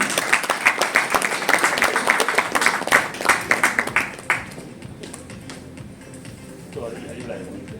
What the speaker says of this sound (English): Can we please invite Sanchi with a big round of applause,